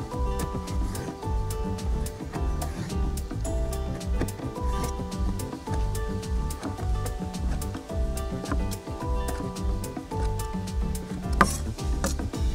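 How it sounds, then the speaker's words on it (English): Knife thinly slicing bacon on a board at a camp cooking setup, a steady fast run of short cutting taps with a continuous crackly texture, close and alone without talk. "I need some bacon for the next dish we're gonna do. I'm just gonna thinly slice this."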